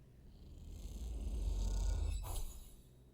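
A stray cat in the video game Citizen Sleeper purrs softly and steadily, a low rumbling murmur that swells and fades over a few seconds with no talking.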